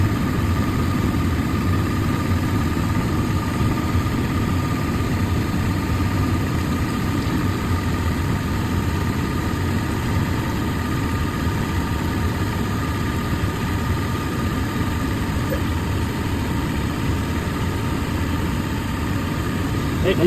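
The engine of a fifth-generation Toyota 4Runner idles with a steady low rumble and hum, unchanging and close for the whole stretch, with no breaks.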